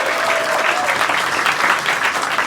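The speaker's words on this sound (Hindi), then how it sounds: "वाह भाई, एक बार जोरदार तालियां दो इसको।" Audience clapping for a couple's 37th anniversary, a dense, steady burst of applause from a crowd lasting throughout at moderate volume.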